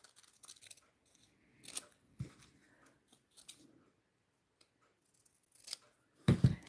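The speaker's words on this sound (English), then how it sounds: "And we will just simply cut a straight line here." Scissors cutting a straight line through paper while making a glued book page: sparse, crisp snips and crunches spread over several seconds, close and quiet, with no talking.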